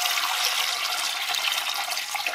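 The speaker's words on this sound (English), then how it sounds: "So you need to pour in the water for your canner" Water gushes steadily from a tap into a canner as it fills for home canning, a loud, close, continuous splashing stream with no talking.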